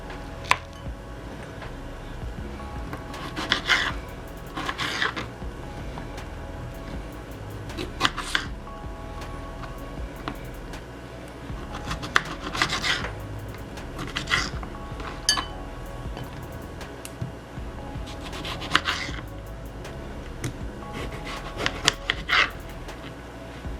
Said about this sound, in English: we're just going to take our lemons and cut them up into pieces